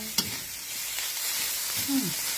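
Fish roe mixed with fish meat dry-roasts in a pan, giving a low, steady sizzle with a sharp tap at the start and a few soft stirring scrapes.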